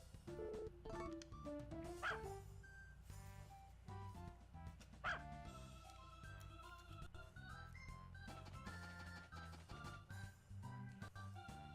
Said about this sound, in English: All of a sudden, that dog started barking at me.